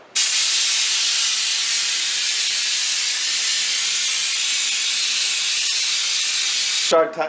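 A paint spray gun lays the final blended coat on a 1974 Ford Bronco, making a loud, continuous hiss for about seven seconds that cuts off abruptly at the end.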